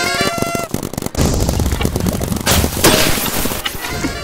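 Gunfire in the Big Paintball video game comes as a loud, chaotic burst of rapid shots and clattering impacts, dense and continuous with brief gaps and sharp peaks throughout.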